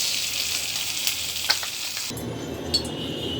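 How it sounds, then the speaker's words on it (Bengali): Small hilsa fish fry in hot oil in a pan, giving a steady bright sizzle with a few faint clinks, then a shift to a lower, denser frying crackle. "আর এখানে হচ্ছে আমার ইলিশ ভাজা,"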